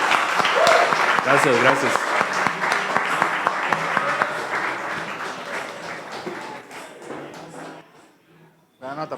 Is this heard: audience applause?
yes